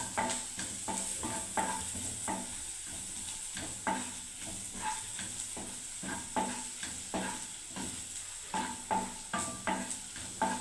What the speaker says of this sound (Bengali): পেঁয়াজগুলো বন্ধুরা দেখুন খুব সুন্দর ভাজা হয়ে গেছে।